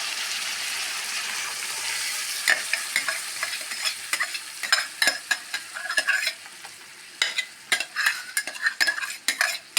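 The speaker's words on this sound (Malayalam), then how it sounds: "നമ്മൾ നേരത്തെ മിക്സിയിൽ ചാറിലടിച്ച് വെച്ച നാളികേരം പച്ചമുളക് വെളുത്തുള്ളി ഇതിൽ വീത്താം" A paste of ground coconut, green chilli and garlic sizzles loudly in a hot pan, with a spoon scraping and clinking repeatedly against the metal as it is stirred.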